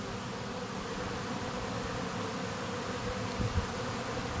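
A massive honeybee swarm arriving at a custom hive makes a dense, steady buzz that fills the air evenly, with no pauses and no voices.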